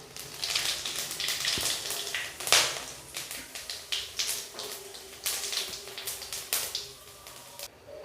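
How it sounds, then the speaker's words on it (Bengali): Whole cardamom, clove, cinnamon and cumin sizzle in hot oil left from frying pomfret fish, a dense, steady crackling and spitting with sharper pops throughout. "এবার ওই তেলের মধ্যেই আমি ফোড়ন দেব, এলাচ, লবঙ্গ, দারচিনি আর গোটা জিরে"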